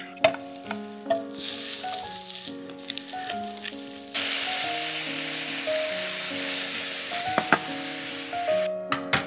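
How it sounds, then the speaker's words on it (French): Onion and vegetables reheating in a hot pan, a hissing sizzle that swells sharply partway through, with a few utensil knocks and a tonal musical bed underneath. "je réchauffe un peu les légumes"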